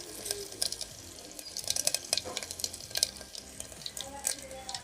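Mustard seeds and curry leaves crackle and sizzle in hot oil, with a steady fry broken by sharp popping bursts and a few stirring clinks, heard close with no talk.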